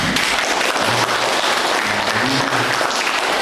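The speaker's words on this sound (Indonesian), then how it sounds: "Mana tepuk tangannya?" Students clap in a school group visiting an Islamic history museum, a dense, steady wash of applause from a nearby crowd that runs throughout, with faint voices mixed in.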